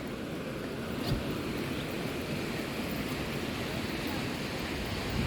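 Lower Duden Waterfall in Antalya pouring off the city cliffs, heard as a steady, dense roar of falling water that stays constant and fairly loud without any speech.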